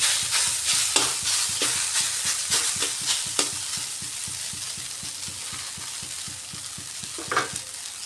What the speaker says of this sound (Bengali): খুব ভালো করে নাড়িয়ে সব কিছু শাকের সাথে মিশিয়ে নিলাম।